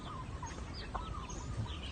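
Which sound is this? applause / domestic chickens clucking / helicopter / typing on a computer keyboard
domestic chickens clucking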